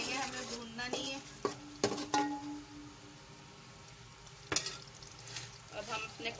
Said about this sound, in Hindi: दही डाल के बस हम 1-2 दफा चलाएंगे, हमें भूनना नहीं है।